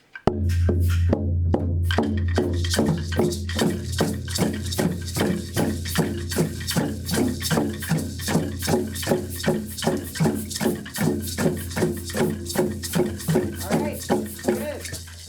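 A drum is struck in a steady, quick pulse, about two hits per second, each with a booming low tone, continuing without pause.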